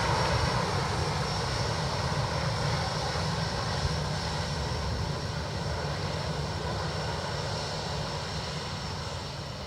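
Airliner engine roar at Dublin Airport, a loud, steady broadband rumble close by that holds nearly constant and eases only slightly toward the end, with no voices over it.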